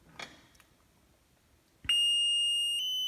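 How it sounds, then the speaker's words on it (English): A loud, steady electronic alarm tone from a flow monitor box, triggered by no flow, suddenly starts after a couple of quiet clicks and holds continuously, piercing and close. "when there's definitely no flow, the box is going to produce an alarm"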